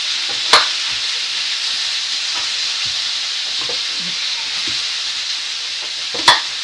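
A quick pan-fry sizzles steadily in a frying pan as it is stirred, with a constant hiss and occasional scraping clinks of the utensil, two sharper knocks standing out, no talk.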